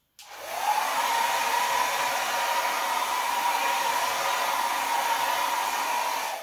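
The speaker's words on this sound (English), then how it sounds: "I think there might be too much paint on here, so I'm gonna have to blow this out" A hair dryer blows out wet acrylic pour paint on a canvas, a loud, continuous whooshing roar that starts abruptly and holds steady for about six seconds, with no talking.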